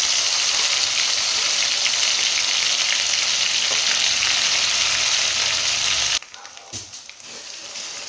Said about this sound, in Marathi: मोहरी व्यवस्थित तडतडू द्यायची जिरा कढीपत्ता तयार केलेलं वाटण आपण यामध्ये ॲड करायचं